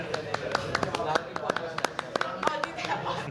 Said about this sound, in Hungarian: Nagy tapsot neki.